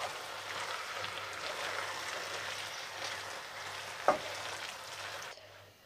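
Rice and vegetables stirred in a pan for stuffed courgettes with feta, a soft continuous frying hiss with light scraping and one sharp clink of the utensil, close and quiet before fading out.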